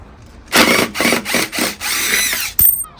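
Timber supports are pulled off a poured concrete countertop with a power tool, giving four short whirring bursts and then a longer one, ending in a sharp knock.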